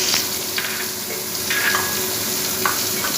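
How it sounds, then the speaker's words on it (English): Chicken frying in a pan with butter-chicken ingredients, giving a steady soft sizzle with small crackles, close and continuous, no voices. "The chicken is getting fried."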